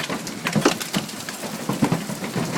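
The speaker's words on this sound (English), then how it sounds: "Nope, here comes the rain." Heavy rain mixed with hail pouring down during a storm in Indiana, a dense steady hiss with scattered harder pelting impacts, close and continuous without a break.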